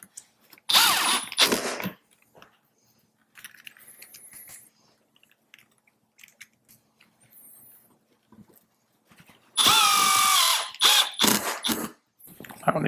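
A power drill driving screws while fitting parts on a Harley Davidson motorcycle, running in loud close bursts of whirring at the start and again near the end, with quieter clicks and handling between.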